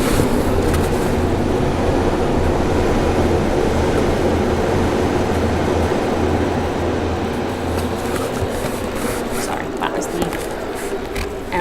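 A Chicago L elevated train rumbles past outside a dark apartment, a loud continuous roar with a low drone that fades toward the end.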